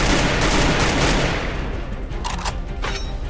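Gunfire in the video game Free Fire: a dense, loud burst of rapid automatic shots fills the first half, then a few scattered, fainter shots follow.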